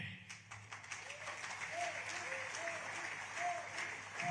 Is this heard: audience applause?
yes